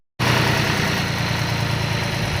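A John Deere 5310 diesel tractor with a newly fitted hydraulic lift part and recently repaired fuel pump nozzles, its engine idling in a steady, loud, close rumble that cuts in abruptly and holds evenly.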